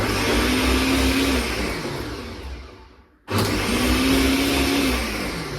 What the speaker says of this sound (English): Now we are blending the pomegranate.